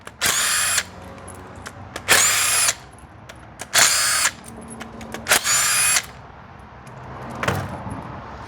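Four short, loud bursts of a power drill spinning out fasteners on a BMW S 1000 RR, each about a second long and evenly spaced, with faint clinks and handling noises in the gaps.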